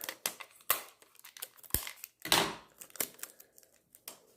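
Tape is pulled off a roll and torn for a jar label, a series of sharp, close crackling rips and snaps in irregular bursts, fairly quiet, with no talk.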